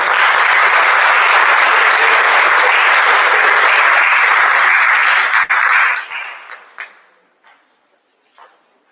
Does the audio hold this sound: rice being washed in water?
no